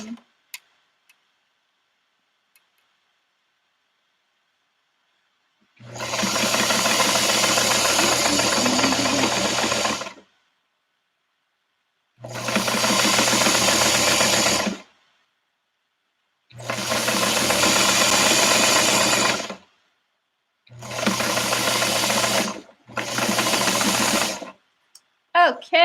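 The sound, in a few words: sewing machine sewing a quarter-inch seam with thread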